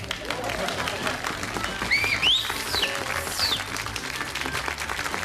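Studio audience applause greeting a game show host, a steady dense wash of clapping with scattered whistles and cheers running throughout.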